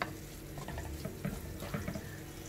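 Chopped tomatoes frying with spice powders in a pan for Kerala-style shark meen pollichathu, a faint steady sizzle and crackle with soft stirring scrapes and no talking.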